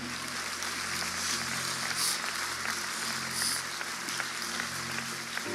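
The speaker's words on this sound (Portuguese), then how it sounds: "Aplauda Jesus." Congregation applause at a Christian conference, a sustained wash of many hands clapping heard from some distance, steady in level with a couple of brief louder swells.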